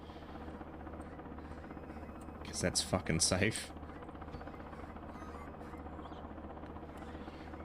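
A helicopter flown in a video game drones steadily throughout, a constant low engine and rotor hum, with a short burst of a man's speech over it partway through.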